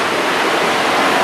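Water poured from a hand dipper for ritual washing, a steady rushing splash that runs loud and unbroken with no voices.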